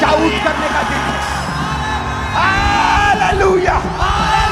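A church congregation at an Easter Sunday meeting shouts and yells together in loud, sustained waves of cheering voices that swell and fall.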